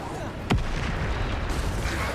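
A Bombarda explosion spell from Hogwarts Legacy goes off as one sharp blast followed by a lingering rumble, with game sounds and a voice running underneath.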